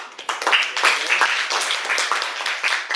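A small class claps during an online lesson, uneven and scattered hands rising and falling in loudness for a few seconds.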